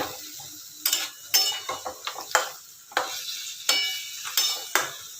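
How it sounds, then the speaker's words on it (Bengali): Kofta balls drop one after another into simmering curry gravy in a pan, giving a series of close, sharp sizzling bursts and spoon scrapes at irregular intervals, with no talking. "এবার এই যে কোপ্তাগুলো দিয়ে দিচ্ছি, দিয়ে এই যে ঝোলটা ঢুকুক"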